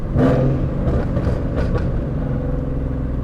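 Ford Mustang GT engine downshifting on a road, a loud, close, rumbling drone with brief blips and a steady roar that stays dense throughout.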